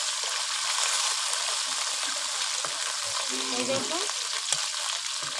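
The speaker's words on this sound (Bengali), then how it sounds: "আমি হালকা করে ভেজে নিচ্ছি।" Small tilapia fish caught from a pond sizzle lightly in hot oil in a pan, a steady close frying hiss with stirring scrapes, while a voice speaks briefly over it.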